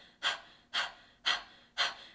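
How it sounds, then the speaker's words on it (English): Four short, sharp panting breaths are pushed out in an even rhythm as a vocal warm-up exercise. They are close and moderately loud, with brief silences between them. "You can do that through some simple panting like this."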